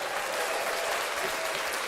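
Dense, continuous applause from a live audience for a comedian on a podcast show, loud and steady throughout with no pauses.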